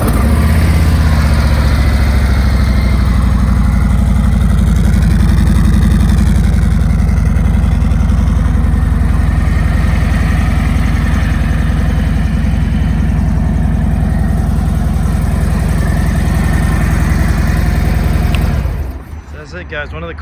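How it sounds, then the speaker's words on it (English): A 2020 Harley-Davidson Street Glide Special motorcycle engine runs at a steady, loud, throbbing idle close by for most of the span, then cuts off abruptly near the end. "So let's go ahead and start this bike so you can hear it go."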